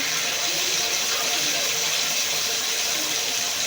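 Liver sizzles in hot oil over high heat, a loud dense continuous hiss and crackle close to the pan with no pauses.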